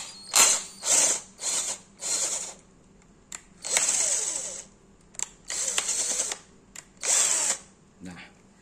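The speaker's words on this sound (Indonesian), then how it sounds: "udah kita lakukan pembesaran lubangnya pakai bor" Power drill enlarging a stripped bolt hole, heard as a series of loud, close bursts of whirring, some short and some held for about a second, separated by brief pauses.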